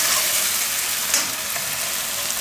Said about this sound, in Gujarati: આ રીતે છૂટું પડી જાય તેલ નોખું ત્યાં સુધી પકાવવાનું એમ ગ્રેવીને